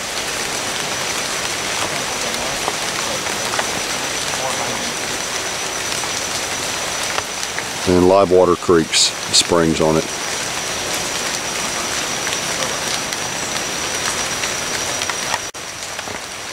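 Steady rain falls hard on surfaces, a constant hiss throughout, with a voice speaking briefly partway through over the downpour.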